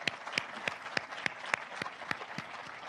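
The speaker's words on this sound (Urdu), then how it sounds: "ان عظیم بچوں اور بچوں کے لیے اور ان کے والدین کے لیے بھرپور تالیاں لگائیں آپ" Audience applause at a school laptop distribution ceremony honouring students and their parents: a steady crowd clapping with sharp individual claps standing out, moderately loud throughout, with no talking.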